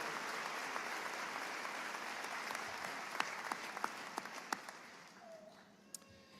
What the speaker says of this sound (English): Please join me in applauding this great group.